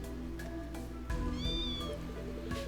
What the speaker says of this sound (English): Aren't you happy, little kitty?